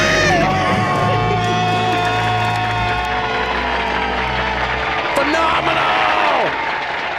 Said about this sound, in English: Let's hear a great debt-free scream.